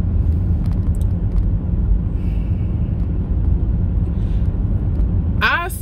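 Steady low engine drone and road rumble fill the cabin of a moving car, holding a constant level throughout, with a brief higher-pitched squeak near the end.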